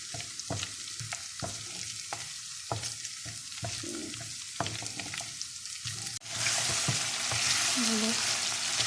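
Chicken frying in a pan for chicken karahi, a dense close sizzle with repeated spoon scrapes and clinks at first, then the hiss swells louder and steadier, no one speaking.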